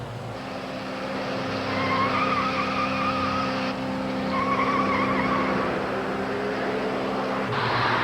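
A runaway car speeding by at about 110 mph: a loud engine roar with a whining tone rises to a peak and then fades, followed by a second sweep, with no talk.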